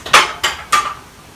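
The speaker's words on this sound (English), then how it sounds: "Let me give y'all one more stir." Three ringing metal clinks, close and evenly spaced, as a spoon knocks against a pot of oxtail and potato stew while stirring, each fading quickly into quiet.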